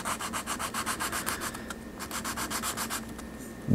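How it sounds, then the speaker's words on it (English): A plastic model kit part for a Nissan GTR R35 is sanded by hand in a steady back-and-forth rhythm of about a dozen quick, close, raspy strokes, with no talking. "I'm just going to sand it down ever so slightly"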